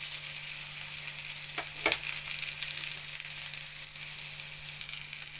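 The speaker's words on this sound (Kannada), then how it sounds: "ಸ್ವಲ್ಪ ಬಿಸಿ ಆದಮೇಲೆ ಇದಕ್ಕೆ ಹೆಚ್ಚಿನ ಈರುಳ್ಳಿ ಹಾಕ್ತಾಯಿದ್ದೀನಿ" Chopped onions fry in a hot pan with a steady, close sizzle and a couple of brief scraping stirs partway through, and a faint low hum underneath. Nobody speaks.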